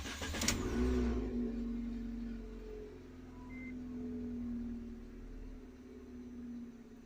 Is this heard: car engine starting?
yes